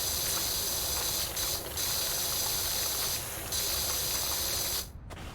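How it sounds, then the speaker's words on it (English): Soft, steady spray hiss from a pressure washer in the video game Powerwash Simulator, continuous and fairly loud with a few brief surges and a sudden cutoff near the end. "It's like a soft spray."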